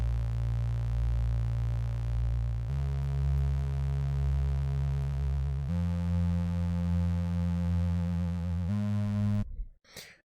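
Sustained synthesizer notes hold steady tones that shift pitch in several stepped blocks, with an LFO adding a subtle wobble to the note's tail before the sound cuts off abruptly near the end.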